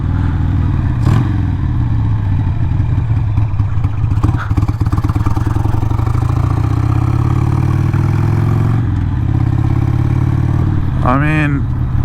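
Harley-Davidson Sportster 883 motorcycle running while being ridden, a loud, steady engine drone that rises and falls in pitch, with someone talking over it.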